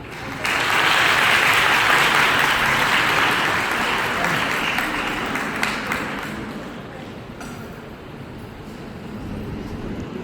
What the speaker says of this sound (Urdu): تو سر کو ویلکم کرتے ہیں تالیوں میں